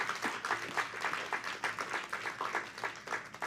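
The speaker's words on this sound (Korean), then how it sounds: "거룩한 주일 하나님께 큰 영광의 박수 한번 올려드립니다." Church congregation clapping during a Sunday worship service, a rapid scatter of hand claps sustained for a few seconds, moderately distant and fairly quiet.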